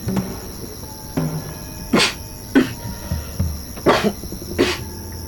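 Several short, sharp coughs spaced about a second apart over a steady insect-like hum and faint background noise.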